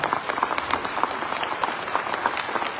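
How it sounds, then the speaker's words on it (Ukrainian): Steady applause from a large concert audience, dense and continuous clapping filling the hall throughout. "Оплески"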